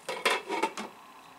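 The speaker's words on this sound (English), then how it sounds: "we put on the lid and we're going to let it rest for a little bit" A lid set onto a cooking pot in a home kitchen, heard as a few close, bright metallic clinks and scrapes in quick succession, then quiet.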